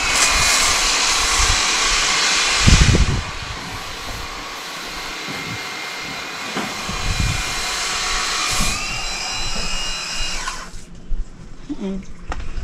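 A loud, steady motorized whir of a DeWalt cordless power cleaner spraying a boat deck, with occasional bumps and thuds, fading to quieter rustling near the end.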